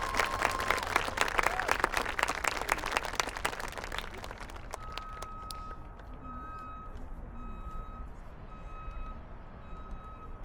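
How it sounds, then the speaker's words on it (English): An audience gives a round of applause for soldiers at an Army basic combat training graduation, dense clapping that fades after about four seconds into quiet ambience with a steady electronic beeping tone repeating in the background. "Please give these soldiers a round of applause."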